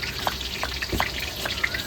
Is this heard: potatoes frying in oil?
yes